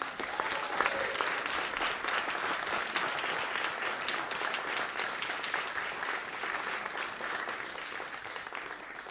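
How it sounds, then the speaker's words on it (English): An audience applauds a judo throwing demonstration by members of the GB Visually Impaired Judo Squad at a university Christmas lecture: dense, even clapping from a large crowd fills the hall and holds steady for several seconds. "Let's give them a applause."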